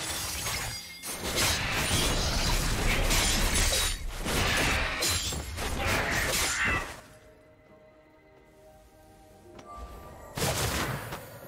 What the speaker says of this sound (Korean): 빨간 팀의 포탑이 파괴되었습니다.